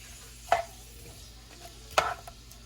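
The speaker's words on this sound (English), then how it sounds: "Still mixing my shrimp." Shrimp with garlic stirred in a pan, two distinct scraping clinks of the utensil about a second and a half apart over a faint background sizzle.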